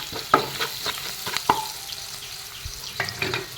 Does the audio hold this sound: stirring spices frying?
yes